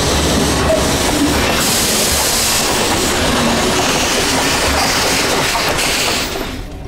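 A train rides along with a loud, steady rolling rumble and rail noise, close and continuous, easing off slightly at the end as it arrives, with no talking.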